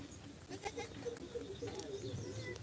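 Goats on a goat-rearing farm bleat in a short series of faint calls, with steady low background noise behind them.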